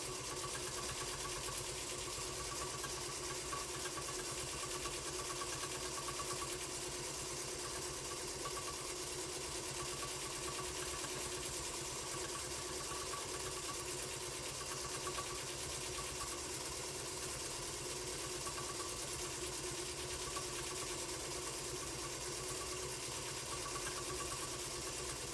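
Sewing machine quilting fabric runs as a steady, continuous motor whir and needle buzz throughout, fairly faint and unbroken, with no talking.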